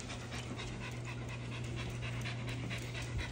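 A Boston Bully dog pants steadily and close, rapid rhythmic breaths continuing for a few seconds over a low background hum.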